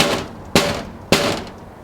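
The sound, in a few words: cricket ball banging against toughened glass pane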